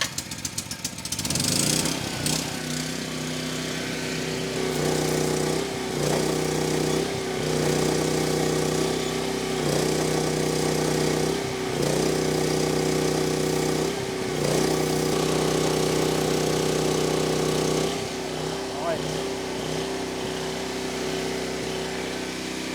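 A welding generator engine runs steadily under test at close range, a loud continuous mechanical drone with periodic dips and surges every few seconds as the load shifts, and no talk over it.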